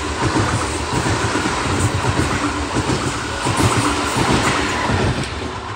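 A train rolls past nearby with a loud, continuous rumble and rhythmic clatter of wheels over rail joints, no voices present.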